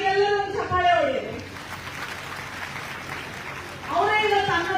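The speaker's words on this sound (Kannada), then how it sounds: "ಆ ತಾಯಿಗೆಲ್ಲರೂ ಒಂದು ಚಪ್ಪಾಳೆ ಹೊಡಿರಿ." An audience at a gathering of widows in Vijayapura applauds a mother, a burst of crowd clapping in the middle, with someone speaking loudly before and after it.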